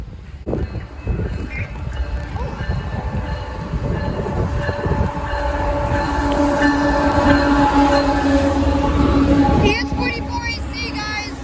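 A BNSF ES44AC diesel locomotive and its train pass close by in Edmonds, a loud continuous rumble and rattle of wagons building and holding, with a voice speaking briefly near the end.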